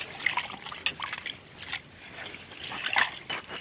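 Water sloshes and trickles in short bursts as mosu mosu keerai (musumusukkai) greens are swished and rinsed close by, with soft splashes and dribbles.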